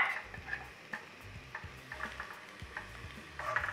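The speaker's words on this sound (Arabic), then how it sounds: "وبدي اقليه ليدبل عندي" Onion frying in about three tablespoons of olive oil in a casserole pot, a soft steady sizzle with scattered ticks and light stirring taps, fairly quiet and close, without any talk.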